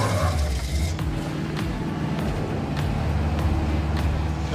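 Dave's 4x4 K20 truck engine runs at a steady idle, a loud, close, low rumble with a rhythmic throb and faint ticking clicks on top, no voices.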